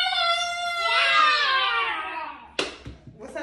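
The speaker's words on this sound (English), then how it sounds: "What's up with the screaming then?" A child lets out a long, high, wavering scream up close, followed by a sharp clap and some short excited sounds.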